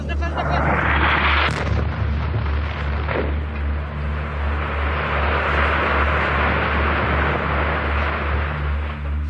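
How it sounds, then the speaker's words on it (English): An airstrike on an underground hospital in Syria, heard as a heavy rumbling boom with a sharp crack early on, then a sustained low roar of blast and debris filling the air. "Moments later, the pilot bombs it."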